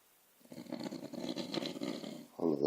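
Bear snoring close by, a low rough rumbling breath that builds and holds for a couple of seconds, followed by a louder grunting inhale, with no talking.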